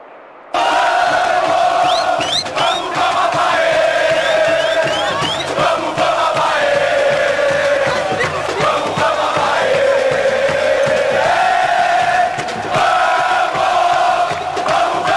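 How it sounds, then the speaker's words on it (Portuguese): Stadium crowd in the PES 2010 football video game, during a Brazilian Série A match between Avaí and Bahia, roars and chants steadily and loudly for the whole stretch, a dense sustained wall of cheering without a break. "Que presente para esta torcida. Olha que festa linda."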